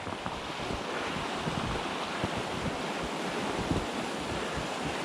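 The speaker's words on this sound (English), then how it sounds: "That is Tibbets Falls." Tibbets Falls, a modest Michigan waterfall, gives a steady rushing water noise outdoors, with buffeting wind noise on the microphone over the top.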